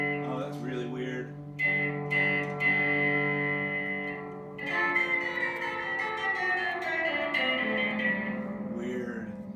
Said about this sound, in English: if you turn the volume all the way down and the reverb up, you can hear the reverb